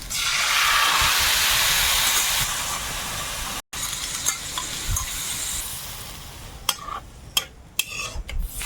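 Water poured into a hot pan of fried spice masala for an egg curry sets off a loud rushing hiss that fades over a few seconds, then gives way to quieter bubbling, with a few sharp clanks toward the end.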